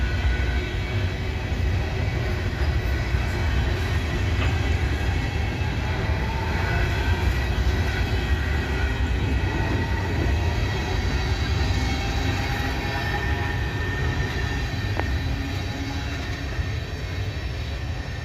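A freight train of grain hopper cars rolls steadily past close by, a loud continuous rumble and clatter of wheels on rail with no pauses and no voices.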